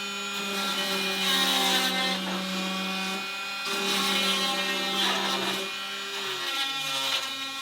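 A power tool whirs in steady, loud bursts while a boat engine is bolted down, its pitch dipping and rising as the bolts are driven, with no talk over it.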